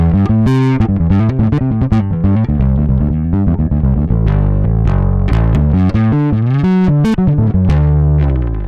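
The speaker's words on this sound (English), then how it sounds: "Now I've got my lows on their own separate channel and the distortion on its own separate channel." Heavily distorted electric guitar riffs with thick low end, distortion and lows processed on separate parallel channels, loud and continuous, played without any voices.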